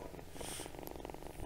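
A tiny kitten purring close by, a steady rhythmic rumble that runs unbroken for about a second and a half with no talk over it.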